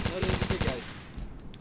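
Rapid automatic gunfire in the military shooter Operation Flashpoint: Dragon Rising, a dense burst of close shots for most of a second that then stops, leaving quieter background noise.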